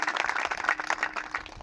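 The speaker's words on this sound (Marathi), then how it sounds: "एकदा गुरुजी करता टाळ्या वाजा यांच्या करता" Audience applause at a Marathi kirtan, a dense, steady wash of many hands clapping together for under two seconds, moderately loud with no voices over it.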